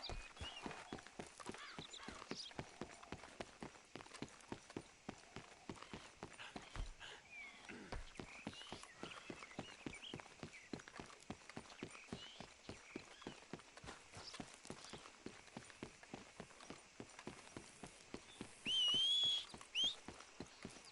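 Rapid, steady clip-clop of horse hooves in Red Dead Redemption 2, a quiet rhythmic stream of hoofbeats that runs the whole time with a short lull partway through. A brief whistle sounds near the end.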